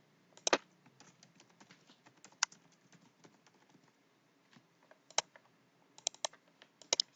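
Typing on a computer keyboard while entering prices into a spreadsheet, a continuous patter of quiet keystrokes punctuated by a few sharper clicks, close and soft with no talking.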